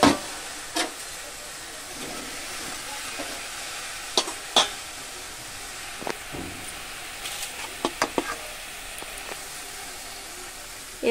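Eggplant, pointed gourd and potato pieces fry quietly in a kadai, a soft steady hiss broken by sharp utensil clinks and scrapes scattered through the clip.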